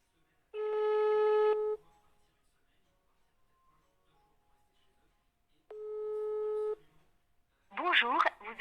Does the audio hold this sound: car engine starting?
no